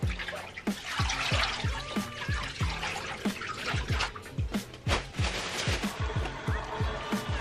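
Bleached jeans are lifted out of a tub of water, and water drips and splashes back in a quick irregular series of nearby plops and trickles.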